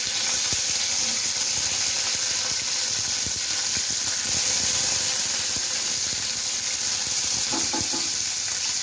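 Curry leaves dropped into hot oil with mustard seeds hiss and sputter in a loud, continuous sizzle, with crackling pops scattered throughout and a brief burst of spattering near the end.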